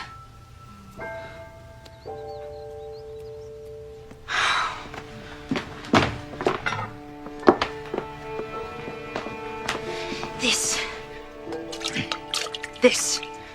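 Water pours and splashes in several loud bursts with scattered drips, set against sustained orchestral music and occasional voices.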